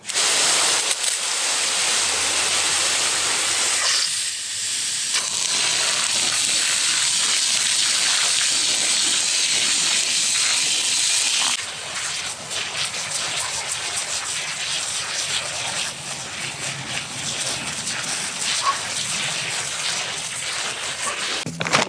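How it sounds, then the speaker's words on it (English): Water pours and gushes steadily through straw bales, a broad rushing splash that shifts to a softer, trickling flow partway through, with no talking. "now we just water them in until water is thoroughly coming out the bottom"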